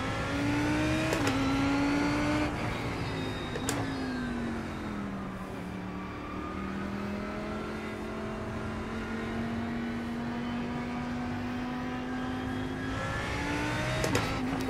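Lamborghini race car in the iRacing sim racing game, its engine droning loud and steady, pitch dipping and climbing through gear shifts with sharp clicks between, alone without talk.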